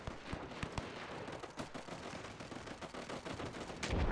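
Rapid machine gun fire on a WW1 battlefield in Between Empires, sharp rattling bursts of shots repeating at a quick, uneven pace, with a louder blast at the close.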